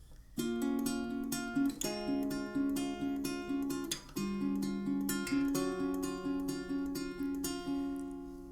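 Acoustic guitar fingerpicks the repeating pattern from a song, steady plucked notes ringing over shifting bass notes, played alone and close at a moderate volume.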